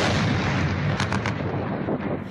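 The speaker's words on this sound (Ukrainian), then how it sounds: "А це росіяни пригинаються під вибухи українських дронів, які атакують цей самий аеродром." Dense, rumbling blasts and crackling bursts from drone strikes on a Russian airfield roll through continuous noise, with a few sharper bangs standing out near the middle.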